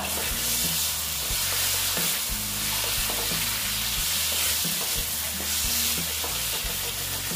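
Sautéing in a pan while preparing a thin potato and lentil-dumpling curry with pabda fish: continuous stirring scrapes and a steady sizzle, close and fairly loud, with repeated spoon strokes throughout and no voices.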